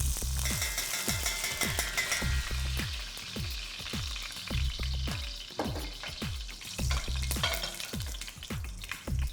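Three tablespoons of ghee hitting a very hot pan, a loud crackling sizzle with rapid repeated pops and spatters that keep going, close and alone with no talk.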